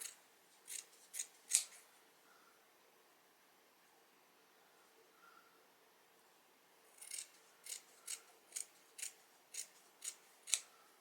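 Scissors cutting a long piece of felt, a few quick snips near the start, a quiet pause, then a steady run of about eight evenly spaced close snips, each a crisp short rasp.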